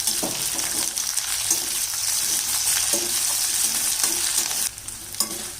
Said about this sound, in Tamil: இப்போ பாருங்கள், வெங்காயம் பூண்டு வதங்கிடுச்சு.